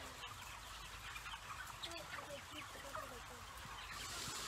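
Chickens clucking inside a poultry house holding thousands of birds, a dense continuous chorus of overlapping clucks and calls at moderate distance, steady throughout with faint background noise.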